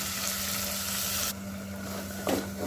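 Blended masala for malai kofta with bottle gourd sizzles steadily in a hot pan, a continuous close frying hiss that softens partway through, with a brief stirring scrape near the end.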